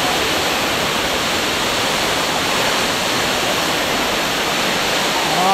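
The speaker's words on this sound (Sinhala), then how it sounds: "මේ දෙන්නේ නියන් ඇල්ල ඔයාලට බලා ගන්න පුළුවන් අලගල්ල කන්ද පාමුලට වැටෙන්නේ මෙන්න මේක" Niyan Ella waterfall pouring down at the foot of Alagalla mountain in rainy weather, a steady, loud broadband roar of falling water that runs unbroken and alone throughout.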